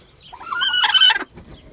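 A farmyard hen lets out one rising, drawn-out cluck of about a second, close and clear against a quiet background, with a faint rustle afterward.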